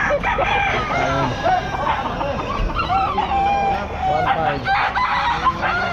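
Gamefowl roosters crowing repeatedly at a busy pet market in Calumpit, loud and overlapping against a dense crowd of clucking birds, with people talking nearby.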